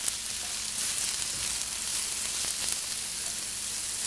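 Sliced medium brown onion and finely minced ginger sauté in a pan over medium-high heat, making a soft, even sizzle throughout with no voices.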